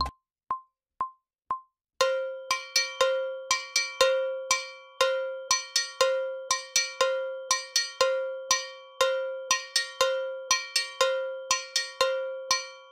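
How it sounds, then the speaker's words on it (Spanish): Following four count-in clicks, a salsa hand bell (campana) rings out a 3-2 clave pattern in sharp, ringing metallic hits with accented and damped strokes, keeping an even repeating groove, close and solo without voices. "En clave 3-2 suena así."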